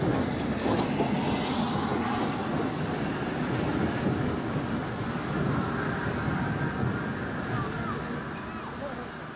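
LNER steam locomotive Flying Scotsman hauling the Valentine Express special train, with a steady loud rumble of rolling wagons and wheels, a high squeal rising partway through, continuous throughout.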